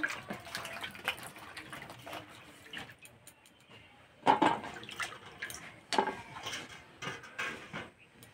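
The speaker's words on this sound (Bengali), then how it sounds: "এই বেগুনগুলো পরিষ্কার করে ধুয়ে তুলে নেব।" Eggplants being washed clean with water, a run of splashes, drips and rinsing bursts, some louder, heard up close in a kitchen.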